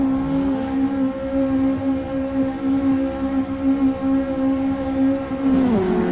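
Engines of GTi Challenge race cars droning steadily at a sustained pitch, then dropping in tone near the end, like race cars idling and revving before a start.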